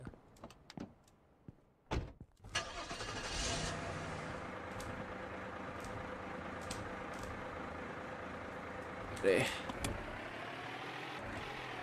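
A car in the video game Streamer Life Simulator: a few door thunks, then the engine starts and settles into a low, steady hum that runs on, with another brief thump partway through.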